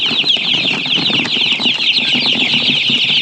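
Many chicks peep continuously in a shrill, overlapping chorus inside a box, close and loud, with faint rustling and scratching beneath.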